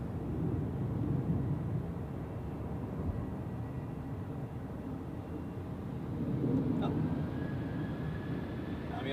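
Low, steady roar of an airplane departing from the runway at Zurich airport, heard from a distance as a broad rumble that swells briefly later on, with no talk.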